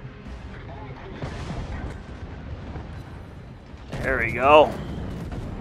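A naval gun salvo booms out in the World of Warships video game, with a rumbling, scattered roar of shell fire and a louder swell near the end, while a player talks briefly over it.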